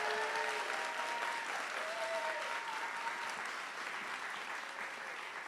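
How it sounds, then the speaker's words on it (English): A seated audience at Berkeley's 2025 State of the City address keeps up steady, fairly quiet applause throughout, with a few faint tonal sounds at the start. "One more round of applause for her."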